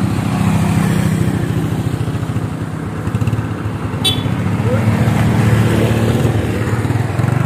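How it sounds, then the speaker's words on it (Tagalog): A motorcycle engine runs continuously close by with a steady rough putter. A brief sharp noise sounds partway through. "May motor di ay?"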